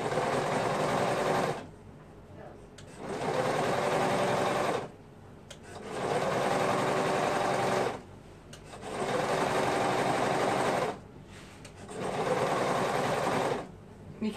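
A sewing machine stitches around the waistband of a circle skirt in four loud, steady bursts of several seconds each, with short pauses between them while the fabric is turned.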